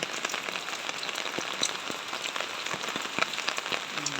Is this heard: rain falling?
yes